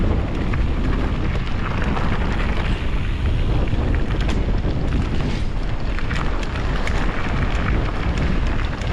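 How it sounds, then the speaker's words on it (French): Strong wind roars against the microphone on a mountain pass ride by electric-assist mountain bike, a loud continuous buffeting rush with gusty flutter throughout. "Il y a du vent là, hein."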